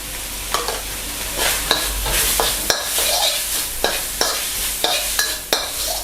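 Minced pork being stir-fried with curry paste and sator beans for a Thai khua kling dish, a steady sizzle broken by repeated sharp scrapes and clinks of the spatula against the pan, close and fairly loud with no talking.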